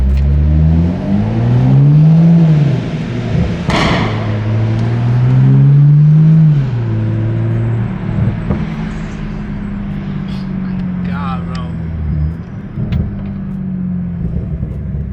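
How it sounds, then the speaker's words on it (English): A Toyota Supra engine heard from inside the car rumbles and revs in repeated rising pulls, loud and close, with an idle settling between them and brief voices under it. "as you guys can hear, we are in the Supra. This just sounds so damn good."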